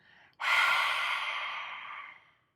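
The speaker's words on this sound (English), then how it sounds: "Breathing out, letting it all go." One long, steady exhale of air, close and breathy, follows a brief intake and fades out over about two seconds during a guided breathing exercise.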